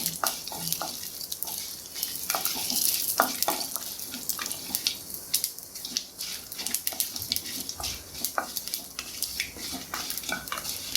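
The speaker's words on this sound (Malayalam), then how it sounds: "4 മുളക്, നല്ലപോലെ ഫ്രൈ ചെയ്യണം" Cumin seeds and four dried chillies fry in hot oil for a Chettinad chicken gravy, a steady close sizzle broken by repeated scraping stirs of a spoon against the pan.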